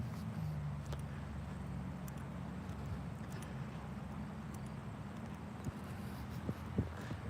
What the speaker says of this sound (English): There's an engine sound right there.